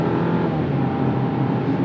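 A 2024 Jeep Compass Latitude 4x4 with a small turbocharged engine accelerating, a steady loud engine drone heard from inside the cabin, with no talking.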